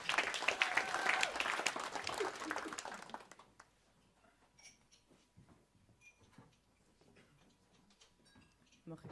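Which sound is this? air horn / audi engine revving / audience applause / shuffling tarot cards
audience applause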